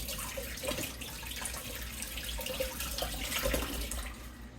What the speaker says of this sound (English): wash my hands like that